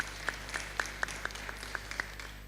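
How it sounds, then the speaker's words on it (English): Scattered applause from a small audience at a panel discussion during a career fair, with sparse separate claps in a quiet room, faint and brief. "A round of applause for them once again."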